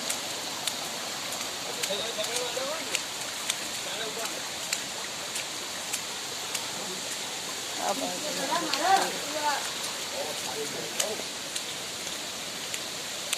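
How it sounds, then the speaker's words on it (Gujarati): Steady broadband hiss of heavy rain falling at Pavagadh, with a slightly louder patch of splashing midway, continuous throughout with no voices. "બહુ ભારે વરસાદ છે"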